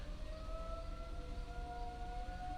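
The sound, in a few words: tornado sirens going off at 10 a.m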